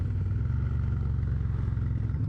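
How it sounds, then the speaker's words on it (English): A motorcycle with its speed limiter removed runs steadily nearby, a loud continuous low throbbing engine drone with a rattling texture and no pauses or voices. "he took the limiter off the bike, so this thing flies now."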